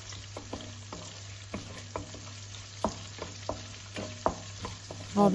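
Chopped onions fry in a pan for egg curry until light brown. A faint, steady sizzle runs under a low hum, broken by regular soft scrapes of stirring, with no talk.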